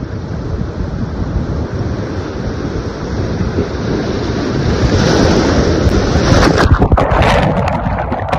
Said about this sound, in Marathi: अचानक पाण्याची मोठी लाट आली आणि या कलाकारांवर धडकली